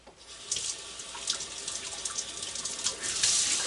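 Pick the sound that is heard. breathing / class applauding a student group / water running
water running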